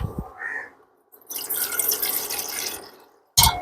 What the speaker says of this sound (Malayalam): നമ്മൾ കുറച്ച് വെള്ളം ഈ ഒരു പാത്രത്തിലേക്ക് നമ്മൾ ഒഴിക്കുകയാണ്